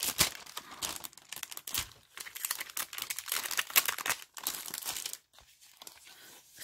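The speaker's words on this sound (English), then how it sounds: "sorry for the crinkling" Plastic craft supply packaging crinkles and crackles up close, a dense run of sharp rustling bursts with brief pauses, handled alone without talk.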